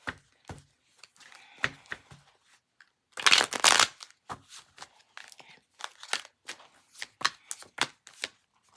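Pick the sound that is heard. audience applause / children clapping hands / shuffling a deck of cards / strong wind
shuffling a deck of cards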